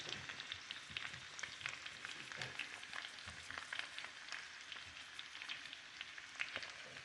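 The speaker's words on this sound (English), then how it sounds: "So my potatoes are frying" Steady crackling sizzle of potatoes frying in hot bacon grease, dense and continuous with sharp pops scattered throughout, close by.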